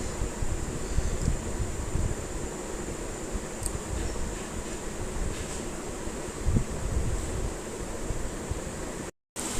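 Lentils and dried chillies fry in hot oil while making a vallarai keerai chutney, giving a steady close hiss and crackle throughout with a few brief clinks. No voices are heard.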